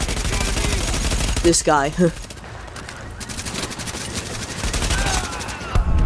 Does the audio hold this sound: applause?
no